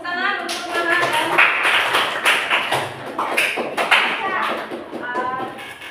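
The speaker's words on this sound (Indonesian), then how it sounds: "Tepuk tangan untuk Maha" Classroom applause for a student, a dense patter of many hands clapping steadily for several seconds, with children's voices mixed in.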